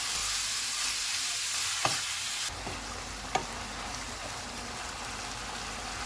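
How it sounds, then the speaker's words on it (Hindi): Minced meat with ginger garlic paste sizzling in hot oil in a pan over medium-high heat, a steady loud fry with a couple of sharp stirring clicks, and no talk. "ऑयल गर्म हो गया है, इसमें कीमा डालेंगे। अदरक और लहसुन का पेस्ट।"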